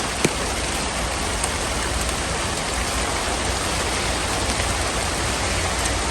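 Rain falls steadily as a dense, even hiss of large drops, loud and close, with no voices and a few brief drip ticks.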